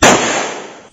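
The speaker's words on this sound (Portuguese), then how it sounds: "O segundo disparo vai ser com calibre 380" A .380 caliber shot fired into plywood boards, a single sharp, loud crack with a brief decaying tail, close and alone.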